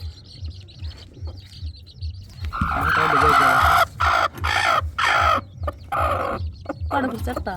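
Chickens cluck and squawk close by in a short noisy burst, with choppy, broken-up calls over a low background hum.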